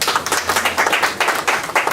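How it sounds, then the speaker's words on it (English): An audience applauding a museum, with dense, steady clapping from many hands at close range, alone and loud throughout. "So let's give it up for the museum."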